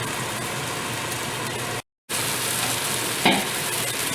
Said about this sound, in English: we're going to cook the tomatoes and onions by covering it for a little bit